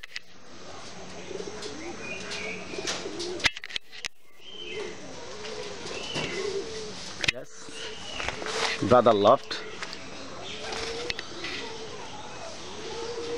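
Jalali pigeons in a loft with a tin roof give soft, repeated coos scattered through the clip, with a brief burst of calls near the end. Someone talks over them throughout.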